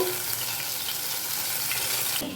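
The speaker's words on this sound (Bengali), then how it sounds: "সবগুলো মাছ ভেজে নেব" Tilapia fish frying in oil on a gas stove, giving a close, dense and steady sizzle with no voices, cut off abruptly near the end.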